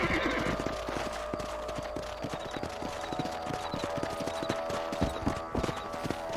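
Horses in the Red Dead Redemption video game clop steadily along at a ranch, hooves beating a brisk continuous rhythm with a neigh early on, loud and close over a dense game soundscape.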